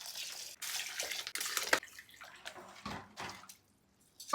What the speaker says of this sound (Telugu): ఇప్పుడు కొలత పెట్టుకున్న గ్లాస్ తోటి నీళ్ళు అయితే పోసుకుందాం